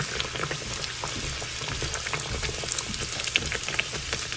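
A kachori deep-fries in hot oil with a dense, bubbling crackle and hiss that holds steady throughout, close and fairly loud, with no voices over it.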